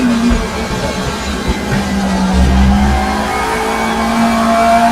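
A race car engine in the RaceRoom racing game revs steadily and loudly, its low drone rising and falling as it climbs into third gear, with a continuous in-car roar throughout and no talking.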